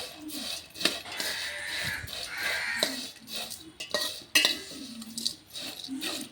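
Vermicelli being roasted in ghee in a pan for semiya payasam, with a metal spoon scraping and clinking against the pan in repeated close stirring strokes.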